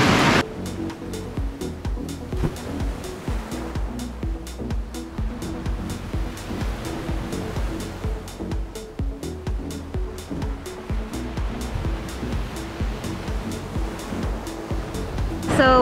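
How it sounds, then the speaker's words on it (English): Strong ocean waves breaking in a small cove at Jamaica's Blue Lagoon, a continuous loud roar of surf and churning water that fills the whole stretch, with a heavier surge at the start and again at the end. "So when I say these waves are big,"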